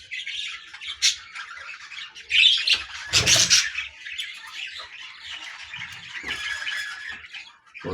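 Pet budgies kept on a home balcony chirp and squawk in a busy, overlapping chatter, with a louder burst of calls near the middle and steady twittering throughout.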